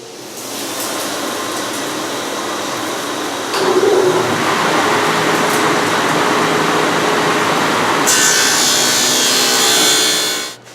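A saw cuts dado grooves in cabinet wood for a table end cabinet, a steady loud whining rip that runs almost unbroken for about ten seconds, briefly growing harsher partway through, with no voices.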